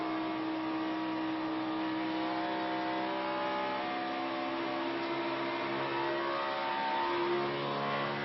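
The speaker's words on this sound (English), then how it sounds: "Engines sound different this year with that tapered spacer" NASCAR Sprint Cup cars with tapered-spacer engines drone at high speed in a steady, layered whine during practice at Texas, heard from a distance with no talking.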